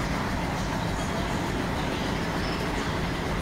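In a video game train simulator, an express train departs with a steady, dense rumble of wheels and a running engine, loud and continuous with no pauses.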